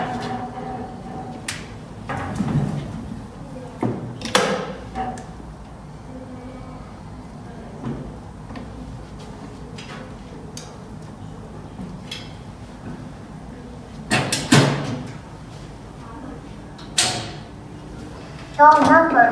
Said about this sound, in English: Door number 1 is open. Please insert the battery.